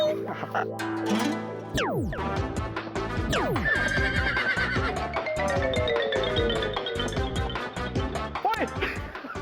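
A horse whinnies at a wedding procession among lively festive music and band sounds, with sweeping tones and a steady loud backdrop throughout.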